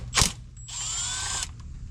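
Ratchet spinning on an 8 mm bolt of a transmission filter on a 6R140 gearbox in a 6.7 Powerstroke truck, a sharp burst followed by a steady whirring run of about a second, close and loud with no talk.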